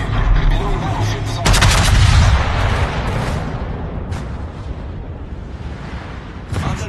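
Naval gunfire in a warship battle game: a heavy, rumbling barrage of big guns booms with a strong, deep roll, and another loud salvo hits midway. Distant thuds follow, then a fresh blast near the end.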